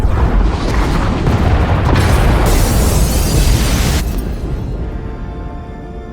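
Heavy explosions tear through the escape pod bays in Star Wars: The Old Republic, a sustained, loud rumbling roar of blasts that rolls on for several seconds before fading into a lingering low rumble.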